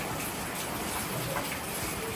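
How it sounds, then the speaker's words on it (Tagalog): Steady rain falls on a surface during a stormy day, a dense, even hiss of drops that fills the space continuously with no voices or other sounds over it. "ulan pa man din."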